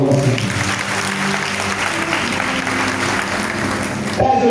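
A church congregation applauds at a Marian seminar service, a steady, dense wash of clapping that holds loud and even throughout, with faint voices mixed underneath.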